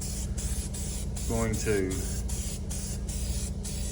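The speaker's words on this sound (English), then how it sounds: "just gloss black 97, 96, 97 cent spray paint" Gloss black spray paint hisses from an aerosol can in short bursts under steady broadband noise, with a voice speaking briefly in the middle.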